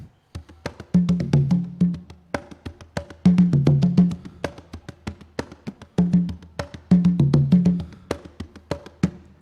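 Timba rhythm on drums at a Latin dance school showcase: a busy, repeating pattern of low drum tones and sharp hits that keeps a steady, layered pulse with no voices.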